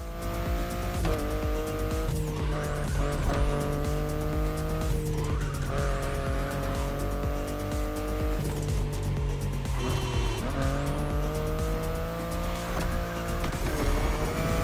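A BMW i8 drives in the racing game The Crew Motorfest, its engine droning steadily and loudly throughout while shifting pitch, with repeated tire squeals and skids as it corners.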